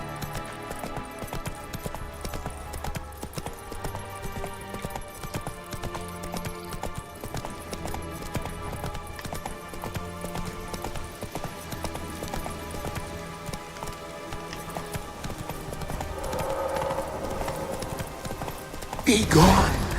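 Horse hooves clip-clop at a steady galloping rhythm throughout, close and continuous under game music in Witcher 3 Wild Hunt, ending with a louder burst of sound.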